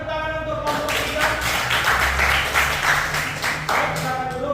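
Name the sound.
classroom applause for a student group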